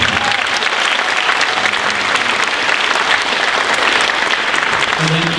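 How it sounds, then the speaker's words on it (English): Dense, loud applause from an audience at a middle school spring concert, a continuous wash of many hands clapping together throughout, with no pause. "let's give them one more round of applause"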